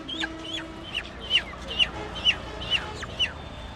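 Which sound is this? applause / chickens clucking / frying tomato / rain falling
chickens clucking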